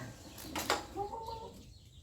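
A chicken clucks a few times in short bursts, fairly faint against a quiet outdoor background.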